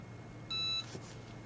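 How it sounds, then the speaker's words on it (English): A single short electronic beep from a Cricut EasyPress 2 heat press signalling it has finished, clear but fairly quiet, over a low steady background hum. "And it beeps when it's finished."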